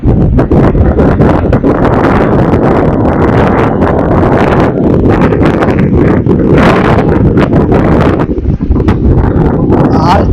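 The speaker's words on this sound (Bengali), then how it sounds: "আর চারিদিকে ভীষণ হাওয়া।" Strong wind sweeps across Digha sea beach and buffets the microphone in loud, continuous gusts that roar and rumble without a break for the whole stretch.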